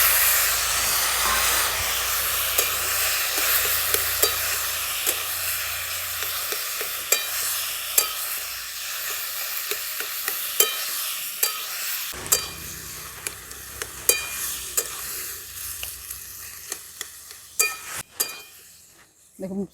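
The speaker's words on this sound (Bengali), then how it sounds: "দেখুন মশলার সাথে লাউটা কিছুক্ষণ নাড়াচাড়া করে নিয়েছি।" Boiled bottle gourd pieces are stirred with fried spices in a hot pan, a continuous close sizzle and hiss punctuated by repeated spatula scrapes and clinks, with a voice talking at points.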